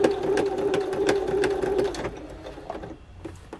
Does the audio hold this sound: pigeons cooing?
no